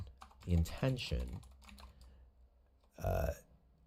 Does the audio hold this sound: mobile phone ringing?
no